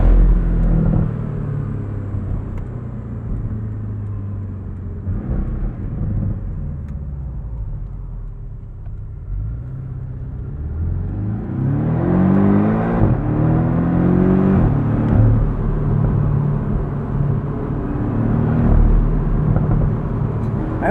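A 2024 Porsche 718 Boxster Style Edition's flat-four engine drives with the top down, a steady close rumble that swells into a rising rev sweep midway, then settles into a sustained drone with no talking.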